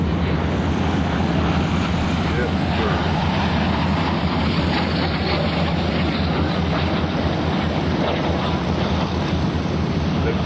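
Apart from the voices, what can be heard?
jet aircraft flying past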